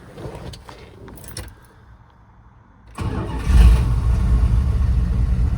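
A 1985 Dodge Ramcharger engine cranks briefly, falls quiet for a moment, then catches and roars to life, settling into a loud, steady rumbling idle with an exhaust leak.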